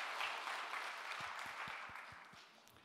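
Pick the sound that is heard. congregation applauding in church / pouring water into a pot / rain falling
congregation applauding in church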